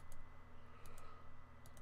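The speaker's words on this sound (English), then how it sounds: "There's a lot of clicking involved when you double fucking Eldrazi temple." Quick faint mouse clicks and key taps at a computer while playing a Magic: The Gathering digital card game, a few light clicks spread across a quiet background.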